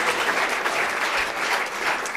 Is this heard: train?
no